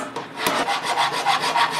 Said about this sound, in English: Using a file.